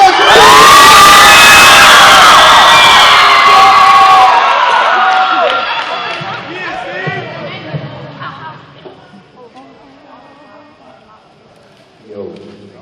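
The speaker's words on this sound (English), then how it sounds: "1, 2, 3, make some noise!" A large audience at a keynote talk roars, cheers and shouts loudly for several seconds, then the noise fades into scattered whoops and chatter.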